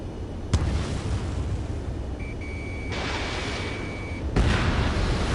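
A destroyed target explodes in a PS4 video game: a sharp boom opens, a steady rumbling roar and a thin whine follow, and a second loud burst hits near the end, with no talk.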